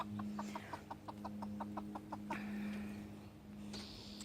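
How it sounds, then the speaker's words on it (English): A small black Serama hen in a wired coop gives a quick run of about ten soft, evenly spaced clucks, followed by a brief louder squawk, over a steady low hum. "the little black hen over here"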